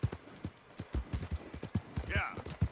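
Horse hooves clip-clop in a steady walking rhythm in Red Dead Redemption 2, fairly close and crisp, with a brief whinny-like tone partway through and no talking over it.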